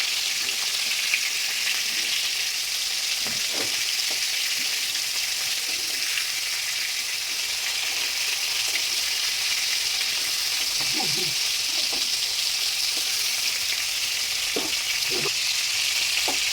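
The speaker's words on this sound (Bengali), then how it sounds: "উল্টে পাল্টে ভালো করে লাল লাল করে কড়া করে ভেজে নেবে মাছগুলো" Prawns fry in a pan with a continuous loud, hissing sizzle throughout, broken now and then by brief clicks and pops of turning, with no voices heard.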